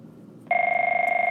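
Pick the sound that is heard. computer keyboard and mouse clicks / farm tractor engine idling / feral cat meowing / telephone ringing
telephone ringing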